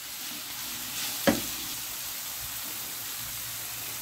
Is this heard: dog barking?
no